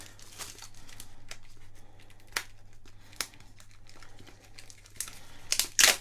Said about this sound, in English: Get the plastic wrapping off of it.